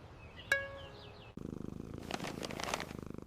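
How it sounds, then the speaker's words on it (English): A cat purrs close by in a steady, rhythmic throb that runs to the end, after a single bright ding in an otherwise quiet room. "I am feeding the cat."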